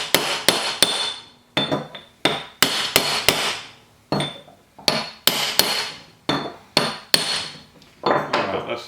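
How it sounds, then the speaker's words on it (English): A small hammer taps a brass rod while driving a part of a Brown & Sharpe dividing head: about twenty sharp metallic strikes, close and loud, arriving in irregular pairs and singles with brief ringing after each. "I'm going to take my brass rod here, little hammer"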